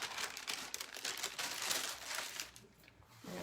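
A Chalk Couture transfer sheet is peeled up off a craft surface, making close, soft crinkling and tearing rustles that fade out near the end and give way to quiet.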